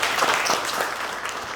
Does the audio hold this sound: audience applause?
yes